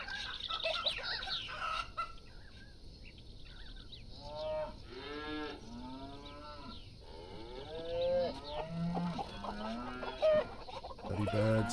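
Chickens cluck alongside mooing cattle in the farm simulation game Farm Manager 2018, with repeated bird calls and cow lows in an open farmyard ambience, moderately loud and without talk.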